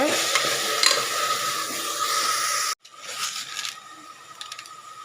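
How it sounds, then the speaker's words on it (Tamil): Tomatoes sauté in a pan for chicken biryani, producing a bright, continuous sizzle with stirring scrapes close by. It drops out abruptly partway through, then returns as a quieter hiss with occasional clinks. "அடுத்து நம்ம தக்காளி சேர்த்துடலாம். தக்காளியும் நல்லா வணக்கிக்கலாங்க."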